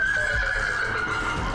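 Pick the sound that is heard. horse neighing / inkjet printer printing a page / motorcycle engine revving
horse neighing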